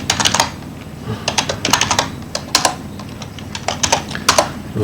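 Brisk, close typing on a computer keyboard, with uneven bursts of sharp key clicks and brief pauses throughout and no voices.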